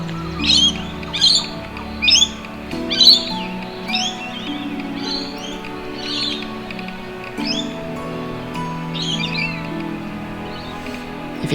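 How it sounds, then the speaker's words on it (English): Rainbow lorikeets screech loudly and repeatedly near a lake, harsh squawking bursts that come in quick irregular clusters over a steady background hum, with no talking. "If you're wondering what that very loud screeching that's coming up is, it's probably rainbow lorikeets, parrots."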